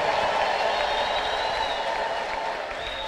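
A church congregation applauds steadily while high, wavering ululation rises above the clapping, loud and sustained throughout and fading slightly toward the end.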